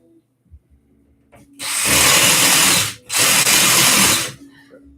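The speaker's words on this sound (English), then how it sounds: "Put clutch in this drill." A power drill with a clutch runs in two loud bursts of about a second and a half each, separated by a brief pause, with quiet room sounds before and after.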